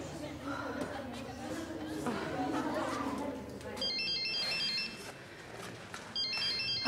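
A telephone rings with a repeating electronic trill in the background while people talk and chatter nearby in a gym-like space during a Russian film scene.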